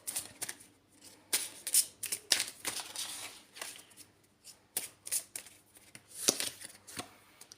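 Oracle cards being shuffled by hand during an angel card reading, a quiet, close run of crisp riffling bursts and soft slaps in an irregular rhythm, with no talking.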